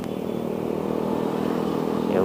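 A 1975 Vespa Super scooter engine idles with its exhaust, a steady close, loud mechanical drone that rises slightly toward the end.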